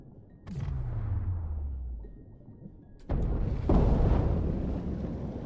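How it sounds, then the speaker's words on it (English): An explosion rumbles in the video game Dave the Diver, beginning with a deep descending whoosh, then a heavy blast and a sustained roaring wash that slowly fades. "Explosion!"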